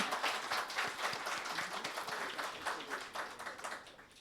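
An audience at a live event applauds, many hands clapping in a steady, fairly faint burst that carries on for several seconds.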